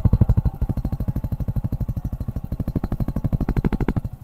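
A Suzuki Gixxer Fi motorcycle with a dual-muffler exhaust runs close by, giving a steady, rapid, throbbing pulse that stays loud throughout and is heard alone.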